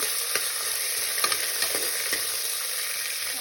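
Peas frying in a little oil, a loud close sizzle with several sharp stirring scrapes and clicks scattered through it, no voices.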